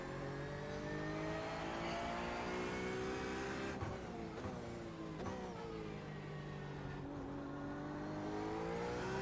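Race car engines roar at Le Mans in the iRacing sim, a steady loud high-pitched drone with shifting harmonics, gear changes and revving near the middle as cars run the long straight, no talk.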